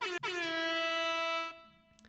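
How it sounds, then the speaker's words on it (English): A single loud blast of an air horn, brassy and sustained for about a second and a half, briefly cut once near the start. "hold on, air horn"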